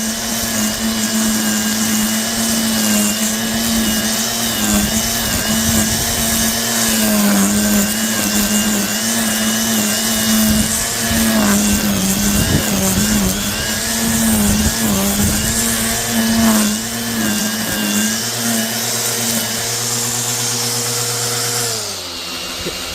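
A Parkside PGKGA40-LIB2 40V cordless multi-head strimmer runs with its motor whining steadily, then dips in pitch as it slows down and climbs back up as it speeds up again, loud and close, with no talk.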